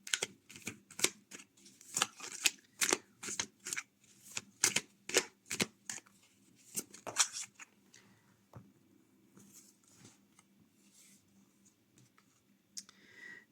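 Tarot cards are shuffled for a card draw, a close series of quick riffling snaps and clicks in bursts, thinning to softer scattered card sounds toward the end.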